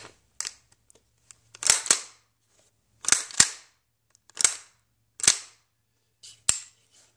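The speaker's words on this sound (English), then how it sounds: "it was a much more audible clack, so you get a more satisfying time when you charge your weapon, and also every time it fires" Airsoft M4 gas blowback rifle with a steel hardtail buffer, giving sharp metallic clacks in separate single and paired bursts with short pauses between them, close and crisp, no talk.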